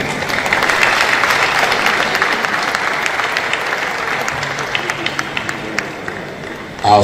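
An audience at a pharmacy association's annual ceremony claps loudly to welcome a guest, a dense, sustained round of applause that fills the hall and thins slightly toward the end.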